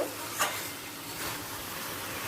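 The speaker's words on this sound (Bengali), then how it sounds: "বাকি বড়িগুলো আমি দিয়ে দিচ্ছি দিয়ে ভালো করে মিশিয়ে নেব" Soft stirring and a low sizzle as bori lentil dumplings are mixed into a pumpkin greens curry in a pan, one brief scrape near the start over a steady faint hiss.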